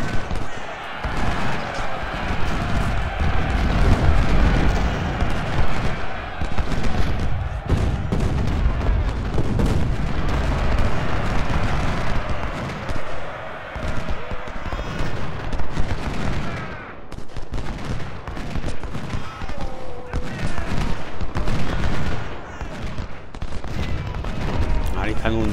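Cannon and musket fire from the Civil War strategy game Ultimate General: Civil War at the Battle of Gettysburg boom and crackle continuously in a dense, loud battle din, with a voice talking over it.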